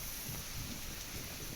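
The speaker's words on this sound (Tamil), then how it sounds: "இடி, மின்னலுடன் ஆலங்கட்டி மழை பெய்தது" Heavy hailstorm downpour in Tamil Nadu, a dense, steady hiss of rain and falling ice over a low rumble, continuous and fairly close, with no voices.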